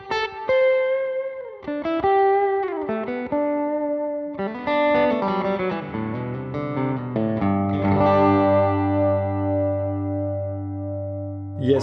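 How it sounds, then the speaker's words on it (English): A Fender Acoustasonic guitar plays a solo passage of single notes and slides building into sustained chords, with reverb and delay on the sound and the tail ringing out, and no voices. "for some extra mojo, I turned on some reverb and delay."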